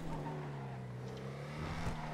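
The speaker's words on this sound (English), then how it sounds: "So first off, the engine sound is excellent on this." The Emperor Vectre sports car engine in the video game GTA V holds a steady, growly drone with slight rises in pitch, as if revving gently in place.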